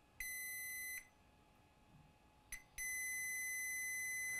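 A digital multimeter set to diode mode gives clear electronic beeps while probing capacitors on a Samsung Evo 860 SSD circuit board. Two long tones are separated by a quiet gap, with a short blip just before the second.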